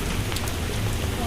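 Steady rain falling during a storm, a dense even hiss of drops on surfaces filling a brief moment without pause.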